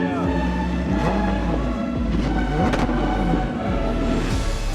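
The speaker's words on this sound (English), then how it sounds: "Porsche, the only one make a 6-cylinder sound like that" A Porsche six-cylinder engine runs steadily close by, with a dense rumbling drone that swells in a few revving bursts, and people talk over it.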